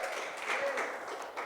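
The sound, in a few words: congregation applauding in church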